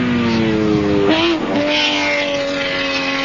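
A 1985 Jaguar V12 touring car screams at full throttle on a pole-position lap of Mount Panorama, Bathurst: a loud, close, sustained engine wail whose pitch dips briefly through a gear change, then climbs and holds steady.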